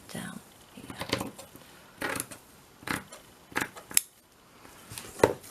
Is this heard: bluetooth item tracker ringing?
no